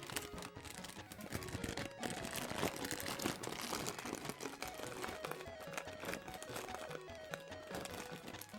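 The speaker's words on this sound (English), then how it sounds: "Oh, I'm not strong enough to rip open this plastic bag." Plastic bag of large crackers being torn and crinkled open by hand, dense close crackling and rustling bursts that continue steadily without talk.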